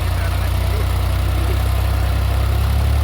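A New Holland 3630 4x4 Super Plus tractor engine running loud and close, a steady low pulsing idle throb with heavy vibration throughout.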